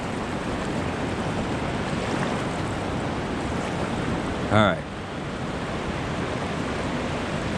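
A river flows past as a constant, dense rushing wash close to the microphone, broken once by a brief spoken word.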